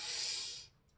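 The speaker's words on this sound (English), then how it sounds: "take a deep inhalation to the right" A single deep inhalation during seated yoga, a soft, close airy breath lasting most of a second before fading into quiet, with a faint click at the very end.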